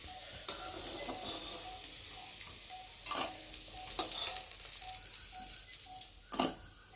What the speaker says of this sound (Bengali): তো দেখো হালকা ভাজা হয়ে গেছে, লাল লাল ভাব এসে গেছে। আর এখন আমি রসুনগুলোকে তুলে নেব।